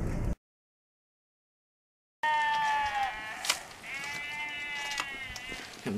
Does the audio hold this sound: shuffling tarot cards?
no